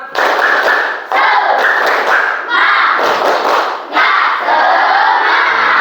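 A classroom of students doing a spirited clap-and-chant cheer, loud group shouts in rhythmic bursts punctuated by claps and thumps, four or five phrases in quick succession.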